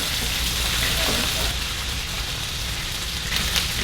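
Food sautéing in a pan for pork chops, a steady dense sizzle and crackle that runs close and loud through the whole stretch without a break.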